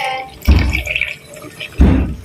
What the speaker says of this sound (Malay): kita tuangkan air